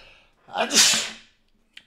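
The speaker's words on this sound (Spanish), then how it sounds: "yo creo que esto es un estornudo" A single sharp sneeze bursts out loudly and close by indoors in a room with air conditioning, preceded by a short intake of breath and followed by a brief faint click.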